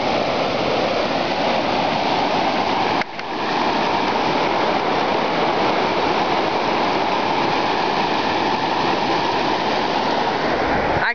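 Water pours steadily over the Rockton Dam in a loud, continuous roar and rush that holds without letup, with a brief dip near the start.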